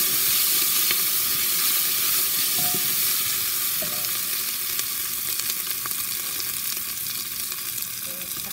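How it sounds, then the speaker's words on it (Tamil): Onions and tomatoes for vegetable biryani sizzle and fry steadily in a pan, a loud continuous hiss close by with faint occasional stirring scrapes and no talk. "சேர்த்து தக்காளியும் போட்டுட்டு சேர்த்து வதக்கிடுவோம்."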